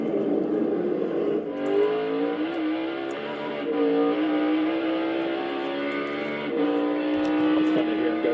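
A race car at Circuit of the Americas in a racing game climbs through its gears, each rising engine whine cut by a brief shift before climbing again, steady and prominent along a long straight.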